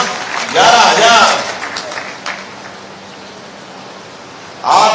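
Short bursts of crowd applause at a BJP victory celebration in Bhopal rise and fade twice, with a voice heard over them.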